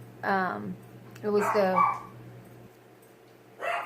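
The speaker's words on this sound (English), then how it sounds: "sorry about my dog's barking." A dog barking at something it hears or sees indoors, a few sharp yips mixed in with someone talking close by.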